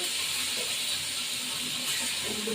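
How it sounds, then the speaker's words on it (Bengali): Tomato fries in hot oil in a pan, giving a steady, loud broadband hiss and sizzle that holds constant from start to finish with no talking. "টমেটোটা ভাজা হবে লঙ্কা দিয়ে দেবো"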